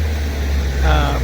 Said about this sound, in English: you can hear a truck going past me and a car going past me